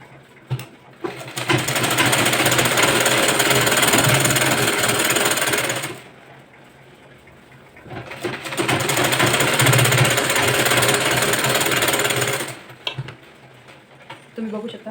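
A sewing machine runs in two long bursts of rapid rattling stitches while sewing a boat neck blouse, with short quiet gaps between and faint handling noises around them.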